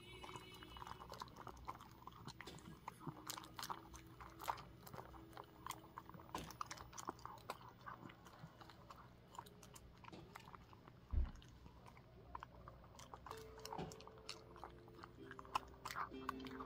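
A dog eating its food from a silicone bowl, with steady close crunching and chewing, irregular bites and soft knocks against the bowl. The sound is quiet throughout and carries no talking.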